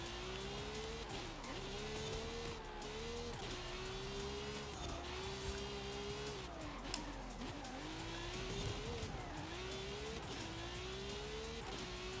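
Car engine in a racing video game, a continuous drone rising through gear after gear with repeated shifts, under faint background noise, steady and moderately loud for the whole stretch.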